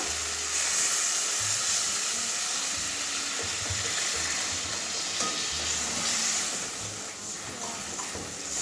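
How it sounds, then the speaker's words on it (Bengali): Water goes into a hot pan of fried potatoes, raising a loud, hissing, bubbling sizzle that holds steady and eases slightly toward the end, with no one speaking. "আলু পকানো হয়ে গেছে এবারে জল দিয়ে দেবো"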